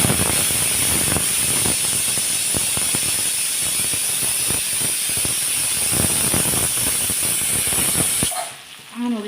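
A pressure cooker steams onions for chicken biryani, a loud, sustained hissing whistle with rattling spurts of steam carrying on for several seconds before cutting off abruptly into near quiet.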